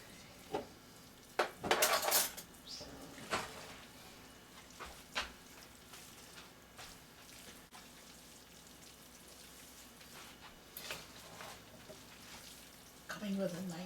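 A metal spoon clinks and scrapes against a bowl while lumpia spring roll filling is mixed, with scattered sharp taps at the start and end, soft wet shuffling between them, and faint talk in the background.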